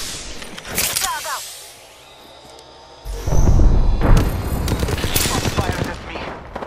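Gunfire from Apex Legends, heard as rapid automatic bursts near the start and a sustained, louder barrage in the second half, with weapon handling noises between volleys.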